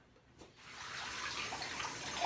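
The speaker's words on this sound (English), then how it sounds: "Okay, so the water's kind of loud" Shower water pouring steadily in a home bathroom, a loud continuous hiss that starts after a brief quiet moment and keeps running without talk.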